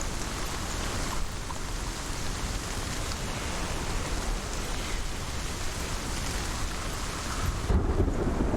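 Thunder rumbles through steady heavy rain in the video game Hellblade: Senua's Sacrifice, a dense continuous downpour with a deep low boom swelling near the end, no voices.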